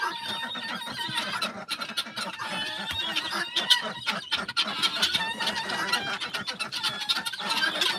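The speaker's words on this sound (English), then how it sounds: "They like sleeping with the guineas and the chickens." A flock of chickens and guinea fowl cluck and squawk continuously, overlapping calls close by with sharp chattering cries throughout.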